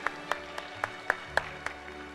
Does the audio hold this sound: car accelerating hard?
no